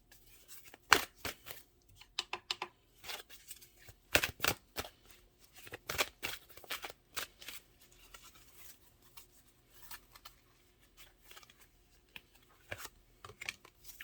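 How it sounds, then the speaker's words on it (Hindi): Tarot cards are shuffled in quick bursts of crisp riffling and flicks, separated by short pauses, close and quiet, with no one talking. "सारे कार्ड आपके सामने निकाले हैं, सब कुछ आपके सामने मैंने शफल किए हैं"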